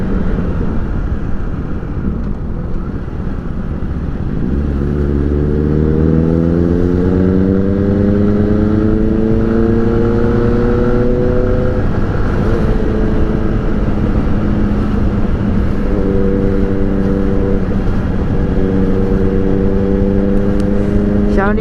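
A Honda CBR650R motorcycle engine pulls hard at high RPM, its rising harmonic whine climbing through the gears in long repeated sweeps, loud and steady under constant wind rush.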